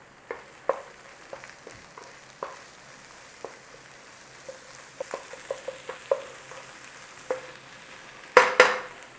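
Egg being stir-fried and scrambled in a hot oiled pan for Yang Chow fried rice, soft sizzling with intermittent scraping and tapping of the utensil against the pan, ending in a couple of louder clatters.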